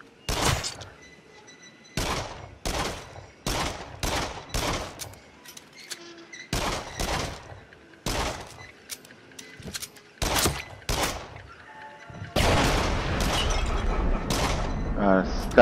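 Gunshots in the VR shooter game Until Dawn: Rush of Blood, sharp bursts of repeated shots separated by short pauses, turning into denser sustained fire near the end, with a voice talking at times.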